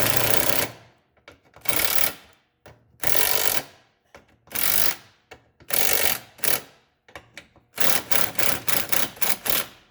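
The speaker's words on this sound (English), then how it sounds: "get the appropriate socket on your impact driver, a 12 mil in this case, and then push it into place, compressing the bushing, and drive it slowly" Impact driver with a 12 mm socket pressing stabilizer link bushings into place on a 2002 Honda CR-V, loud rapid hammering bursts repeated in short pulls, the last burst broken into quick stuttering blows.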